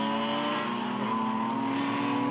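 BMW E30 race cars scream past at Hampton Downs circuit, engines holding a loud, sustained high-revving tone with rising pitch as they run close together under acceleration.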